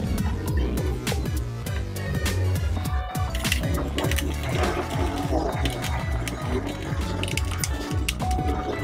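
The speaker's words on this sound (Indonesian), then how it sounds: "Oke, langsung saja kita lepas bautnya." Screws being backed out of a Toshiba Satellite C640 laptop, with steady close mechanical clicking and scraping throughout, dense and continuous with no pauses, no talking.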